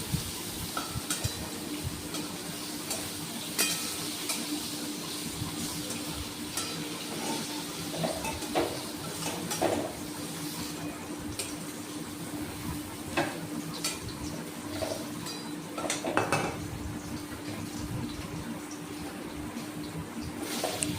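Bitter gourd frying in a pan, turned over with a spatula: steady close sizzle with scattered scraping and clinking stirs throughout, no talking.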